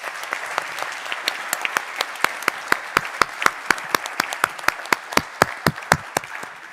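A conference plenary audience applauds steadily throughout, with dense clapping that builds into sharper individual claps toward the end and no talk over it.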